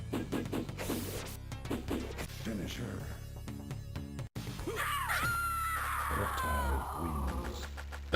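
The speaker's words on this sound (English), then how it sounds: "that scream is supposed to be there" Character scream in a fighting video game: short grunts and hits early, then after a brief cut a long drawn-out wailing scream that bends downward, with someone talking over parts of it.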